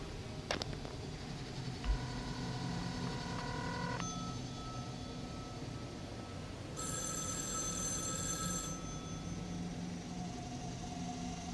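An electronic telephone ring in the film Inland Empire, two tonal bursts repeating steadily, followed later by a higher, brighter ring over a low background hum.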